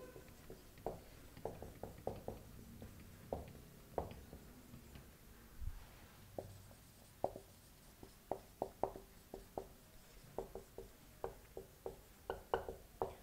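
Faint, quiet strokes of writing on a board during a geometry lesson on circles come as irregular clusters of short taps and scratches across the whole stretch.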